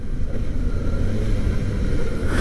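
Kawasaki ZX-4RR motorcycle engine running steadily with a close, continuous low rumble, no clear rev spikes, no talking.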